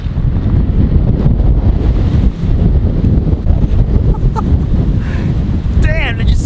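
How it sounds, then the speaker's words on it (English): Strong gale-force wind on an exposed coastal headland, a loud continuous roar buffeting the microphone throughout with brief gusty surges and faint whistling near the end. "right now it's blowing an absolute gale"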